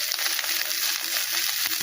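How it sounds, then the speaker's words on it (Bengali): Vegetables for bread pizza fry in a pan with a dense, continuous hiss and crackle that stays loud and even throughout, with no talk. "বাকি সবজিগুলো আমরা ভাজা করে নেব।"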